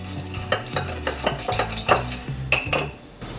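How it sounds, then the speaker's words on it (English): A utensil stirs minced garlic and dehydrated tomatoes in oil in a pan, making close, rhythmic scrapes and clinks over a soft sizzle. "Get your garlic and your tomatoes mixed well in the oil, just like that there."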